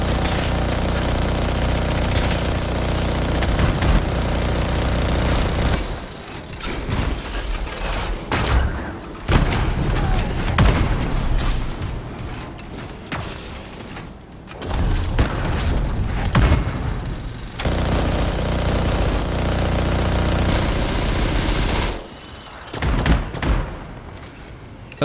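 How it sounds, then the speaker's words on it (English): Auto cannon fire in the video game Anthem, which spins up before shooting: long, loud sustained bursts of rapid gunfire with booming impacts, broken by brief pauses and then resuming, no talking. "this auto cannon is awkward because of it having to spin before firing"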